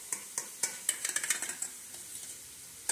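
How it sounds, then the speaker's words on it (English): A spoon stirs Greek yogurt into a little soup in a bowl. Quick, close clinks and scrapes come in a rapid burst, then fade to quieter stirring, with no voices. "take a little bit of the soup and a little bit of the yogurt and stir it together so it's nice and smooth"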